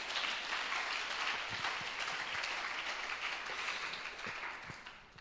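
Church congregation clapping steadily throughout, a broad wash of applause from many hands that holds fairly even and eases off near the end.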